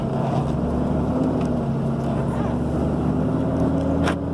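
A 2011 Ram 3500 with a Cummins diesel and 500,000 miles drones steadily on a test drive, a loud, even engine and road hum heard from inside the cab without any clear revving.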